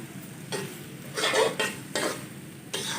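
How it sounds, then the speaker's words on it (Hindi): A spoon stirring a lauki barfi mixture of bottle gourd and milk powder in a pan, with scraping strokes in a rough rhythm of about four sweeps and a faint sizzle beneath, close and clear, without talking. "अच्छी तरह मिक्स कर देंगे।"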